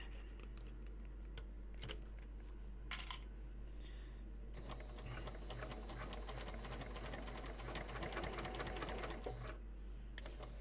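A sewing machine runs steadily while stitching car trash cans inside a bus, with a rapid mechanical patter and a constant low hum, a few clicks and taps standing out, close and without speech.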